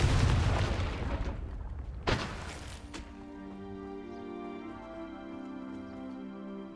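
A fiery explosive spell blasts in a Hogwarts Legacy battle, a loud booming burst that decays into rumbling debris, with a sharp second crack at two seconds before a tonal hum lingers.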